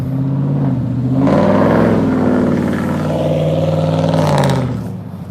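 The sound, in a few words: loud truck driving past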